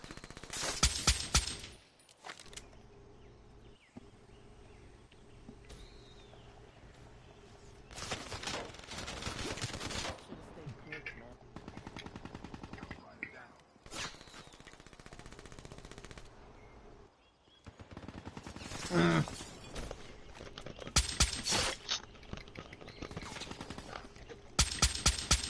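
Automatic gunfire rattles from a gun in a first-person shooter video game, with long loud bursts broken by quieter stretches of game ambience, near and intense throughout.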